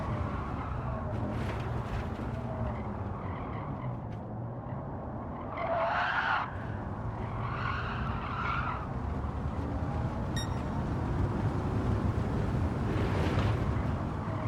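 A ridiculously overpowered race car in Gran Turismo 7 braking into a triple right-hand corner and accelerating out, with a steady engine drone, a couple of tire-squeal bursts midway and the engine building again afterward.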